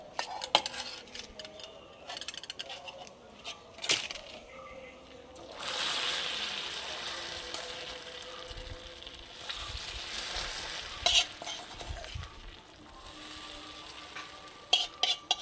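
A spoon stirs ingredients into browned, caramelized sugar in a pan, with clinking metal and soft sizzling bursts that swell and fade, close and moderately quiet, without speech.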